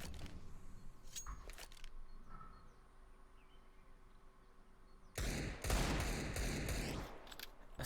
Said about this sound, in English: A slow start with the deagle spam coming out